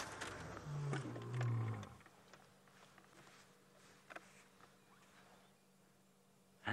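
A lion named in the wild calls with a deep, sleepy roar: loud low rumbling pulses over the first two seconds, followed by quiet ambience with faint rustles and a brief sharp noise at the end.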